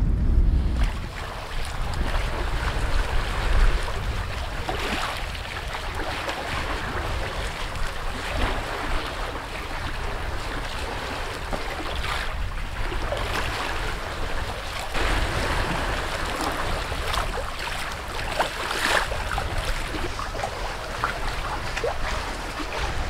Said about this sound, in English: it's a pretty easy sail today